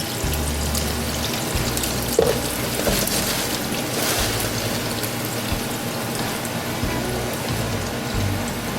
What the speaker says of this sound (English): I'm going to add the heavy cream, the whole 2 cups. Turn the flame down to simmer.